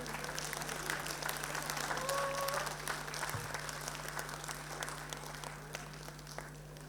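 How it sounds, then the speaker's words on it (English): An audience applauds at a school annual day celebration at Rassaz International School, Mira Road. Dense, even clapping from a crowd holds steady throughout over a low electrical hum. "Let's give a round of applause to our team"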